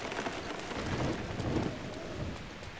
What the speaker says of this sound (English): I'm not trying to deal with this rain right now